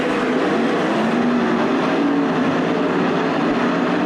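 410 sprint cars race at Attica Raceway Park, their engines a continuous broad roar from a distance that holds steady throughout.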